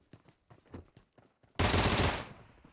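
FAMAS assault rifle fire in PUBG Mobile: a loud, rapid burst of automatic shots lasting about half a second, then fading, after a quieter stretch of scattered soft taps and clicks.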